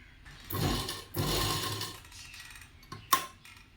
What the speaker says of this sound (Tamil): நீங்கள் கொஞ்சம் கொஞ்சமாக பொறுமையாக என்ன பண்ணுறீங்கன்னா கிளாத்தை தள்ளி விட்டு ஸ்டிச் பண்ணுங்கள்.